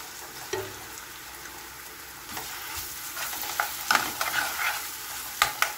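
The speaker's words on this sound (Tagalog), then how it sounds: "At ihalo lang natin tong ating ginisang sibuyas at bawang dito hanggang mapula siya." Sautéed onion and garlic, with tomato paste added, are stirred in a hot pan: a continuous sizzle with repeated scraping and clacking spoon strokes that grow louder and busier toward the end, close up and without talk.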